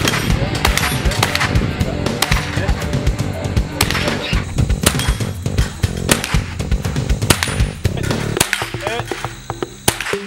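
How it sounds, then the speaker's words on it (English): A Magnum Light .22 rifle fires rapid shots at steel plates from 25 yards during a 3-gun shooting stage, sharp cracks and pings coming in dense irregular bursts, loud and close, with other gunfire and voices around. "Shooters will load 5 rounds and engage 5 steel plates from the 25-yard line using the Magnum Light 22 rifle"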